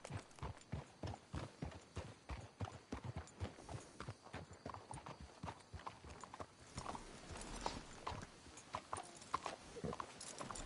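Horse hooves in Red Dead Redemption 2 clip-clop in a steady trotting rhythm, close and crisp, continuing throughout with a faint rumble beneath.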